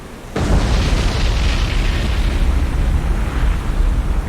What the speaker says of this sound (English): Atlanta suffers magazine explosion.